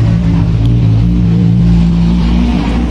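A Honda Jupiter Z motorcycle engine runs loud and close with a steady low rumble, slight swells suggesting light revving throughout.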